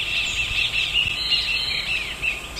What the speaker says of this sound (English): We'll start with the cinereous bulbul.